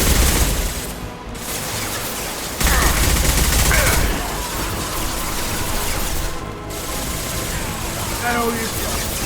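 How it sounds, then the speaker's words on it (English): Heavy gunfire from the Mass Effect 2 video game, dense overlapping shots and blasts running continuously and loudly through the whole stretch, with a voice speaking over the combat. "Taking heavy fire."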